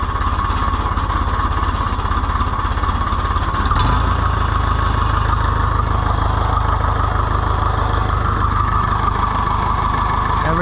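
An Oliver 1450 tractor engine runs steadily after repairs, with a loud, even, close idle whose rhythmic low chug holds throughout the clip.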